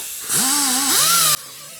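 A resin model base is polished with progressively finer sanding grits down to 800, giving a steady, close whirring whine that rises in pitch and lasts about a second before cutting off.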